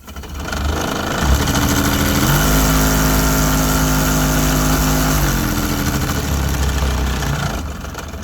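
The cab air-conditioning blower motor on a John Deere 7410 tractor runs loudly up close. It makes a steady droning whir with a humming whine that rises slightly in the middle and then settles.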